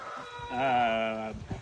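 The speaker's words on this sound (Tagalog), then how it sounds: "Wow, ganda mga manok dito." A rooster crows once, a drawn-out harmonic call lasting about a second, close by on a farm, with a little background noise around it.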